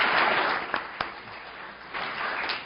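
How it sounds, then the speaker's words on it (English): A conference audience in Raleigh breaks into sustained, dense applause for the speakers, a loud, continuous wash of clapping with a few sharper claps standing out. "I thank all our speakers. Let's give them a round of applause"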